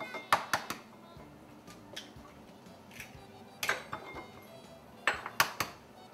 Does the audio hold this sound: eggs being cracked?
yes